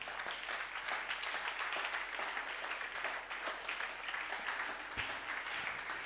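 A congregation applauds the Lord at a Pentecost seminar, a dense, steady roar of many hands clapping together for several seconds without a break, filling the hall with no talk over it.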